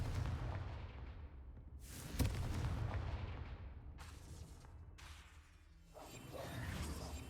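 Confringo blasting spell in Hogwarts Legacy, a series of loud whooshing bursts and explosive booms, several sharp blasts in succession with rumbling tails, no voices.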